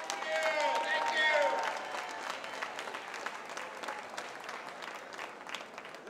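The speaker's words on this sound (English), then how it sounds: "give them all a huge round of applause for this" Applause from a crowd at a charity kickoff event on a pier is fairly quiet and distant, starting with a voice over it and then settling into a steady patter of clapping that gradually thins.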